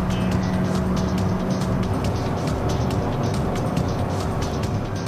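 A Honda Civic Hybrid drives fast on a race track, its engine a loud, steady, close droning hum with a faint whine, heard alone.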